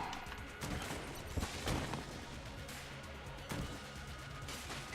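Rapid video-game gunfire from Enter the Gungeon, dense overlapping shots and bursts forming a continuous loud barrage with sharper cracks scattered throughout, no speech over it.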